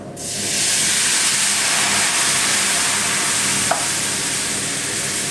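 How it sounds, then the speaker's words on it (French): Marsala wine poured into a hot pan of browned flour roux, giving a loud, steady broad hiss and sizzle that rises quickly and holds for several seconds, with a brief clink near the end. "On ajoute du coup les liquides, donc le marsala"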